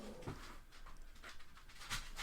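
A dog whimpers and pants over a bone indoors, faint, soft whines rising and falling across a couple of seconds with a brief sharper yelp near the start and end.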